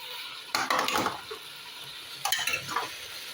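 Eggplant, bitter gourd, okra and other vegetables for pinakbet go into a hot pan in two bursts of clattering utensil scrapes and sizzling, close by over a faint steady background, with no talk.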